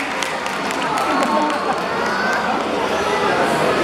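Audience at a seal show at a SEA LIFE aquarium applauds and cheers for a seal, a dense steady wash of clapping and crowd chatter that fills the whole stretch at close range.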